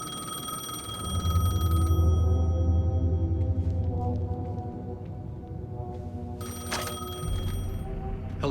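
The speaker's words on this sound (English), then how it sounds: "phone was ringing." Telephone ringing in the Alan Wake 2 video game, a sustained electronic ring heard over a low droning ambient score, with tonal swells and a bright burst near the end.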